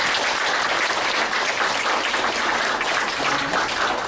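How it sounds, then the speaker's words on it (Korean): Sustained, dense applause from a congregation at a Protestant monastery's opening thanksgiving service, steady and loud throughout with no talk over it. "우리 한번 감사의 박수를 해드리십시다."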